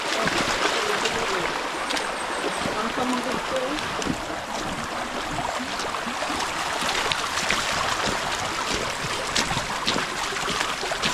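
Steady rushing floodwater after heavy rain flows loudly and continuously, a broad churning wash that fills the whole clip without pause.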